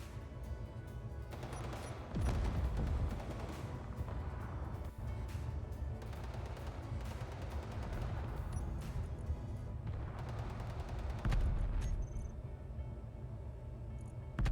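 Rapid, heavy gunfire in Space Engineers while a player shoots at a heavy turret, a relentless close barrage of automatic shots and booming impacts with a couple of louder bursts.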